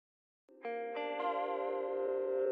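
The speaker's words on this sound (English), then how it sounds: "there's quite a bit of like glitchy sounds in some of the synthesizers" A dark lo-fi glitch synthesizer lead enters after a brief silence and builds into a sustained, layered tone thick with chorus, distortion and echo effects, stepping up in a few stages and holding steady.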